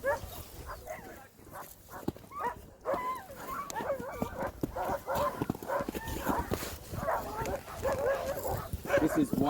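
Several sled dogs at an Alaskan dog sledding camp in Skagway bark, yip and whimper close by, with frequent overlapping calls throughout while a person talks over them.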